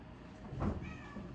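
One short, moderate meow from a house cat comes in the middle of the moment against a quiet indoor background.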